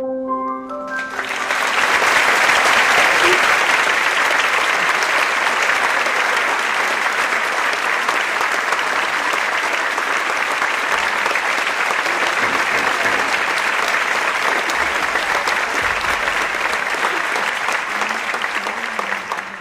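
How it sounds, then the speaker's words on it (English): Loud, sustained applause from a large crowd, steady clapping that continues for a long stretch without voices standing out. "let's give one more round of applause, but I think we just did that"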